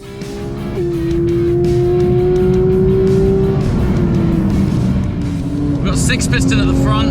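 A Porsche 992 GT3 sports car engine holds a steady high drone, dropping in pitch then climbing again as it takes a corner, with a person talking over it.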